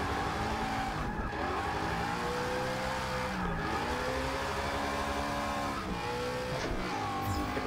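A car in Forza Motorsport 6 drifting after a clutch kick, with the engine revving up and down through gear changes and tires squealing, loud and close throughout.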